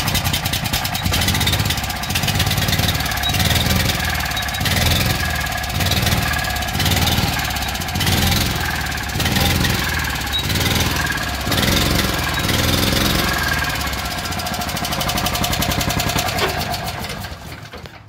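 A Honda GX390 small gasoline engine, smoking and never given an oil change, runs steadily and loudly up close with a regular pulsing chug that repeats about every second before winding down at the end.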